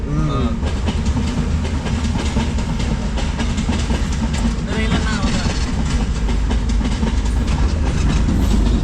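A train rumbles past up close at a railway crossing, loud clickety-clack of wheels over rails with a deep continuous roar throughout.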